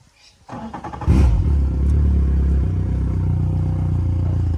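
A Yamaha 70 outboard motor cranks briefly and catches, then settles into a steady, loud idle with a low rumbling hum and light mechanical clatter, heard close and without talk.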